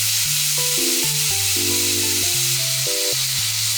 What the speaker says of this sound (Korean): 양념이 타지 않도록 뒤집어 가면서 구워주세요